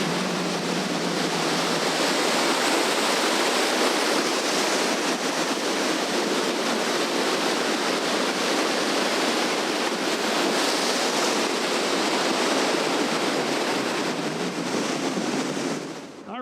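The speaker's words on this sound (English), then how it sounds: "You can see these waves are so fierce, the water's actually coming right onto the pier." Loud, continuous roar of heavy Black Sea surf crashing onto a pier in Odessa, Ukraine, a dense wash of water noise with wind buffeting the microphone, no voices.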